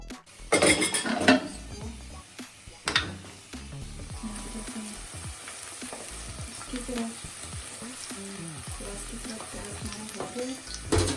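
Minced meat sizzles steadily in a pan while a spoon scrapes and clinks against the metal, with a few louder stirring knocks early on.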